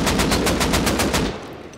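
Automatic rifle fire rattles in the survival game Rust, with a rapid, evenly spaced burst of loud, close shots that stops abruptly and leaves a brief fading tail.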